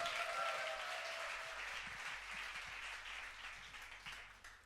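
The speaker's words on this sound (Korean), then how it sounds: "다시 한번 박수 부탁드립니다." Church congregation applauding during a Sunday worship service, a steady wash of clapping that is loudest at the start and slowly fades over a few seconds, with no voices over it.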